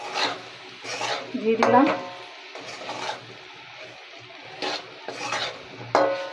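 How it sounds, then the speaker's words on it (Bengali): Salted dal being stirred in a cooking pan, with a few soft scraping rasps spaced across the moment and a brief spoken phrase in the middle. "তারপর একটু নেড়ে নেবো একটু কালার হওয়ার জন্য।"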